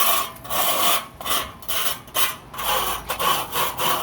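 Trowel or tool scraping the edges of a stucco patch makes repeated rough rasping strokes, loud and close, in a steady back-and-forth rhythm with brief gaps between passes.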